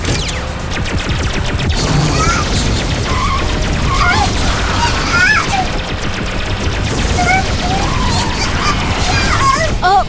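Cartoon laser fire attack impacts in a Hindi animated children's car series, with a dense, loud barrage of blasts and crashes layered with chirpy synthetic tones, continuous throughout and close.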